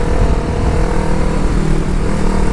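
A motorcycle carrying a rider and a pillion passenger rides through traffic, its engine droning steadily and loudly with constant road and wind rumble throughout.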